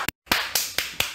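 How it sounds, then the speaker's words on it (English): Four sharp hand claps in quick succession, loud and close, with a brief silent gap after the first. "I'm clapping really hard."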